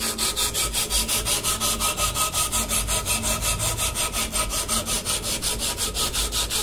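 A hand saw cuts through metal while a homemade extractor for steering-head bearing cups is being made, giving fast, even back-and-forth strokes, loud and close, repeated without pause throughout.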